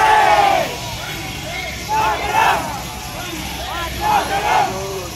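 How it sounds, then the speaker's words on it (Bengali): A dense crowd mills around a Durga Puja pandal in Kolkata, a continuous babble of many voices with a nearby speaker and occasional rises in the hubbub, plus faint traffic noise beneath. "এখনো কত ভিড়"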